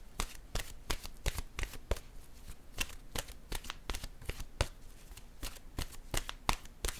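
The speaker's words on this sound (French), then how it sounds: "Je vais piger une carte maintenant de mon oracle de l'âme intuitive." Oracle cards being shuffled by hand before one is drawn, a quiet rhythmic series of soft riffling slaps and flicks repeating at a steady pace, close and alone.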